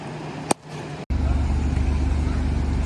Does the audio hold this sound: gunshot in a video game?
no